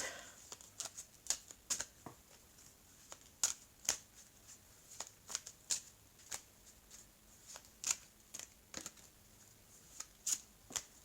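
Oracle cards of a mirror oracle deck being shuffled by hand, giving crisp, papery riffles and slaps in an irregular series of short bursts, close and fairly quiet, with no one talking.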